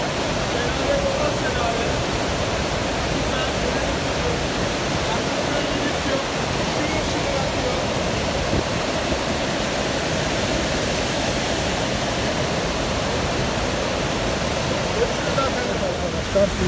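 Palovit waterfall on the Ayder plateau in the Kaçkar Mountains roars in a steady, dense, close rush of falling water that holds constant without pause throughout.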